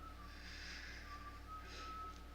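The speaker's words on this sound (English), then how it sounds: "Please don't whistle." A person in a TV drama whistles a thin, steady tone, quiet and slightly wavering against a low room hum, with no talking.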